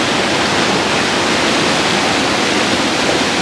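Fast rushing water on a rainy day in Siliguri, where fish are being caught, roars loudly and continuously as a dense, steady wash of noise with no voices.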